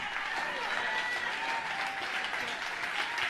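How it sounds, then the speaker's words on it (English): A church congregation stands and claps, producing steady, dense applause throughout, with faint crowd voices mixed in. "People are standing up and clapping for what he's saying here."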